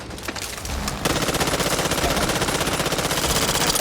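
Dense automatic gunfire from the zombie shooter video game Back 4 Blood rattles in loud, rapid, continuous bursts, with overlapping weapons building into a steady fusillade and no voices heard.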